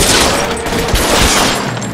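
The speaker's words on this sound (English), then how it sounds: "Oh my God, this is a crazy shootout." Gunfire in a shootout in LA Noire Remastered, a dense, loud volley of overlapping shots and booms running continuously through the short stretch.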